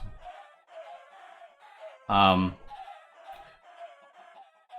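Chickens in the Minecraft modpack GregTech New Horizons give repeated soft, game-like clucks, joined by one louder, sharper squawk in the middle, while a voice speaks briefly at the start.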